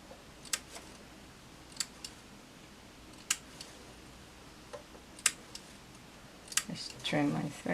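Scissors trim threads off a newly sewn face mask, with a series of faint, sharp snips spaced a second or so apart, followed by soft rustling of fabric at the end.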